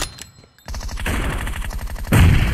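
Rapid automatic gunfire in a PUBG Mobile team deathmatch, starting after a short quiet gap and continuing as loud, fast repeated shots that grow heavier toward the end.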